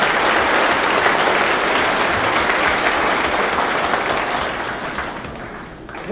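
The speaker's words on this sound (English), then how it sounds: "A round of applause, please, for all of our stage party." A commencement crowd claps loudly and steadily for the ceremony's stage party, the thick applause holding strong and then easing off toward the end.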